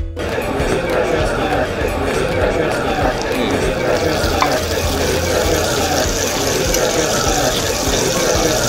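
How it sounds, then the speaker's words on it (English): A steak sizzles loudly on a hot plate at a steakhouse, a dense continuous hiss and crackle close to the microphone that fills the clip, with restaurant chatter faintly underneath. "as you saw by that sizzling earlier, our steak has arrived"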